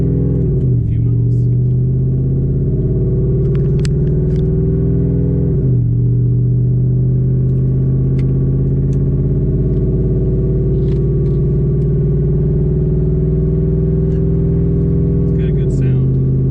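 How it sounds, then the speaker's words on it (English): Thirty-year-old truck with loud, freshly breaking-in mufflers, a steady deep engine and exhaust rumble while driving, with gear-change dips and rises in pitch, continuous and close throughout. "So the mufflers are breaking in, so it's quite a bit louder than it was when I did it."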